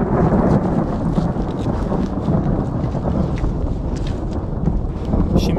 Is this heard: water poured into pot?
no